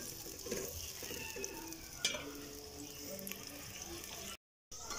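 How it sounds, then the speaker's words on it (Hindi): Onions brown in a pan over medium-high heat, a faint steady sizzle with occasional stirring scrapes, ending with a brief gap of silence. "अब प्याज को ब्राउन करेंगे"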